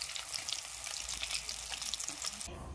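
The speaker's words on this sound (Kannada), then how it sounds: "ಒನಸ್ಗೆ ಮೀನು ಫ್ರೈ ಮಂತೊಂದುಲ್ಲೆ" Fish frying in a pan gives a steady, dense sizzle with crackling spatter throughout, fairly close, and cuts off abruptly near the end; no one speaks.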